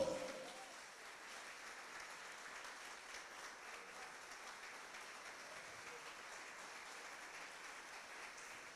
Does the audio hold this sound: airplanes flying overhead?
no